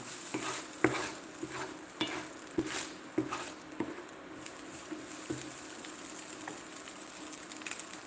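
Breakfast burrito filling sizzles in a pan while a utensil scrapes and stirs it in repeated strokes, turning over pieces crisped on the bottom. The sound is close, and no one speaks.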